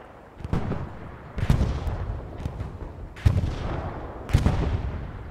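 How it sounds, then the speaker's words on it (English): Explosions and gunfire in a first-person war video game, recurring as heavy booming blasts about once a second with rumbling tails, fairly loud and with no talk over them. "I'm hearing explosions, but can't quite see it yet."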